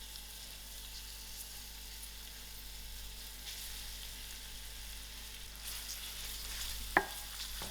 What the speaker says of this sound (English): My onions must fry till it's soft